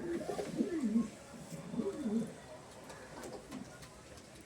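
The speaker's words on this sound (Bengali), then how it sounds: "এটা নর পায়রা" A male pigeon coos in a few soft, rolling phrases, close by and fairly quiet, with faint background noise between the calls.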